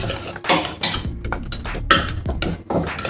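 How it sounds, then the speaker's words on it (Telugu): A ladle mashing cooked dal in a metal pot, repeated scraping and knocking strokes against the pot in an uneven rhythm, close and fairly loud with no talking. "ఇలా కొంచెం పప్పు గరిటె తీసుకొని ఇలా కొంచెం మెదుపుకోవాలి."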